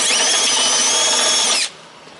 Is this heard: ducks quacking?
no